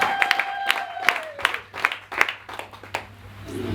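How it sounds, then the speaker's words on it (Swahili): Scattered clapping from a church congregation at a crossover service, a few distinct claps over a short stretch with a voice calling out and a sustained tone fading beneath. "Ongeza makofi kwa Yesu"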